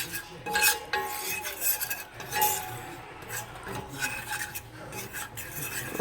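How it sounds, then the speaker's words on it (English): Spoon scraping and stirring onion gravy made with Lipton onion soup mix in a pan, a steady run of close rasping strokes with no talk over it. "I'm just going to keep stirring because we're almost there."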